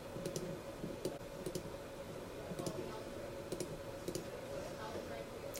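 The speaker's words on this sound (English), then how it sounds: "let's just type this in and see" Keys on a keyboard or calculator are tapped in short bursts while numbers are entered, a few scattered clicks over a steady low hum of room tone.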